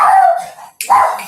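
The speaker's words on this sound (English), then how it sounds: "That's my dog." A pet dog gives two loud, close barks, each a rough burst that trails off, separated by a brief pause.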